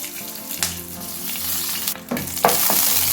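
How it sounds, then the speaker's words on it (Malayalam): Hot oil sizzles steadily while a teaspoon of mustard seeds, added with dried red chillies, pops and crackles in sharp, scattered bursts, with no voices. "ഞാനിതിലേക്ക് 1 ടീസ്പൂൺ കടുകിട്ട് പൊട്ടിച്ചു കൊടുക്കാം"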